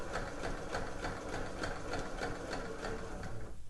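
A sewing machine runs steadily, stitching a row of long gathering stitches along a sweatshirt sleeve head, with a continuous close motor whir and fast even needle rhythm throughout, no talk.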